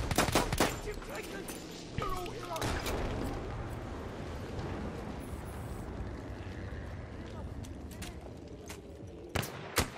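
Gunfire in the Battlefield 1 open beta, sharp shots and short bursts at the start and near the end, with a constant rumble of battle in between and people talking over it.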